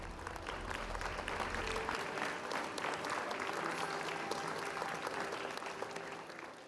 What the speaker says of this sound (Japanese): 保護者や先生の温かい拍手に迎えられ